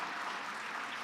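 Brief, faint applause from a studio audience during a French television debate on bioethics, a soft continuous patter of clapping lasting about a second.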